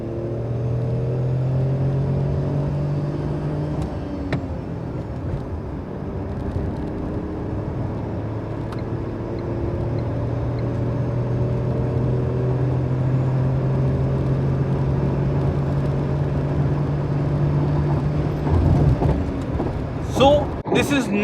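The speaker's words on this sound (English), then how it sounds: "listen to the engine now" A 2020 Tata Nexon petrol engine with a manual gearbox hums steadily and rises in pitch as it revs, with shifts between revs, and sharp clunks near the end.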